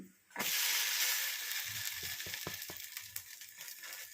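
Thick dibba rotte dosa batter hits a hot pan and bursts into a loud, close sizzling hiss that gradually settles into a softer, crackling fry.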